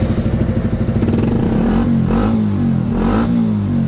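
A motorcycle with a newly replaced exhaust pipe idling roughly then revving, a steady loud pulsing engine note with a couple of throttle blips near the microphone, no talk.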